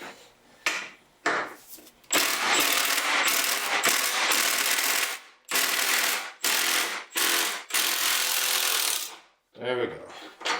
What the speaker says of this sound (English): I think we're going to need our impact gun.